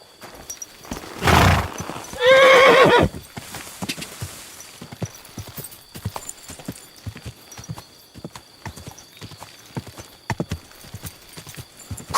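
A horse whinnies loudly twice, then steady clip-clopping hooves trot along in a quick regular rhythm, close and clear with no talking, in Kingdom Come: Deliverance 2.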